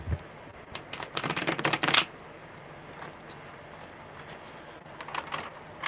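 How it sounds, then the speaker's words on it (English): A tarot deck is shuffled briskly by hand, a dense burst of riffling card clicks lasting about a second, then softer scattered taps and shuffling, close and alone without voices. "one more good shuffle"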